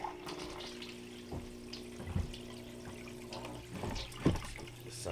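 Water running through a gold prospecting sluice on wetted paydirt, a steady moderate rush and trickle with a low pump hum beneath and a couple of louder splashes.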